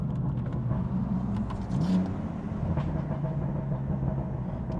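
A BMW M4 Competition accelerates hard, its engine roaring loud and steady from inside the car, with a brief rise in pitch midway and no talking.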